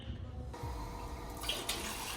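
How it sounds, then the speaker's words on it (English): Dirty, blackened water pours out of a bucket while cleaning the interior of a cheap Mazda Miata, a steady close splashing gush with a brighter spatter toward the end. "I'm nervous to dump that water. It looks pretty black."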